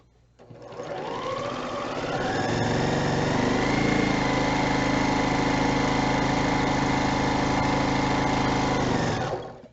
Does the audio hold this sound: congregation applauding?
no